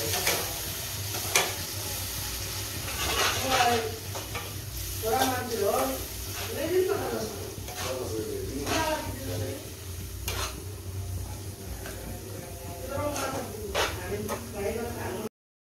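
Fish coated in turmeric and salt fries in a pan, a steady sizzle broken by repeated scraping and stirring strokes, while a person talks over it.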